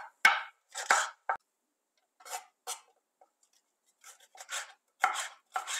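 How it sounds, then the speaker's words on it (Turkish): A knife slices red kapya peppers thinly on a cutting board, giving sharp, irregular taps in small bursts separated by short pauses, close and fairly clear. "Sıra geldi kapya biberlerimizi ince dilimlemeye."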